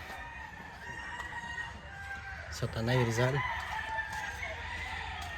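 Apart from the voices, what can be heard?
roosters crowing at a gamefowl farm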